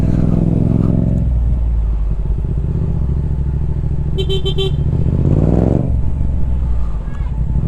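Car engine running steadily while driving through congested city traffic, with a nearby horn honk midway and a brief rising rev; a person talks over the continuous road noise.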